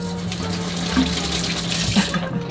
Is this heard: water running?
yes